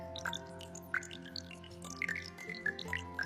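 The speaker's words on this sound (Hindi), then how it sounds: "खामोशी में सिर्फ पानी के नल की आवाज सुनाई दे रही थी।" A bathroom water tap drips into a quiet room, with soft, irregular plinks over a faint steady hum.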